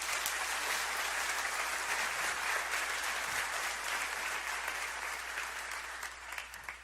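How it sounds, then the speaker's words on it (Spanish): Sustained applause from a church congregation fills the space, dense and steady throughout, easing slightly toward the end with no talk over it. "déle un fuerte aplauso al Señor"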